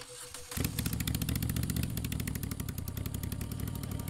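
Motorcycle engine starting up after a quiet moment, then running with a steady, loud, rhythmic pulsing idle close by, no voices.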